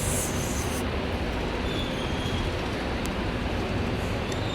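Constant loud rumbling and clatter of a train at Thrissur railway station, a dense unbroken roar with no pauses.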